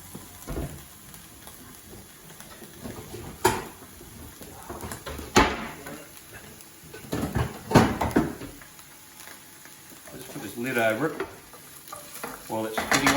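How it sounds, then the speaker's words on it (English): Spices sizzle and spit in hot oil in a pan, a close, continuous frying crackle punctuated by sharp pops and the clatter of stirring. "Just get all that cooked in, starting to spit now."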